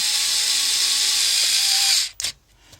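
A Panasonic EY7412SB cordless screwdriver runs with a steady, close, high-pitched motor whine while tightening, then stops abruptly, followed by a couple of brief clicks.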